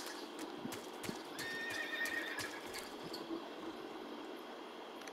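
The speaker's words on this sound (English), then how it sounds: "You just heard a horse?" A horse whinnies inside the Metal Gear Solid 3 game world, a faint, distant neigh over a low ambient rumble, with scattered soft hoof-like clops and no talking.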